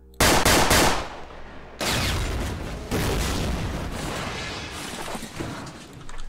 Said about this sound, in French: Ce qui va provoquer une explosion mortelle.